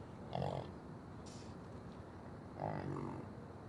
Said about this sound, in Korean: 울음소리도 소와 달리 꿀꿀거리는 특이한 소리를 낸다.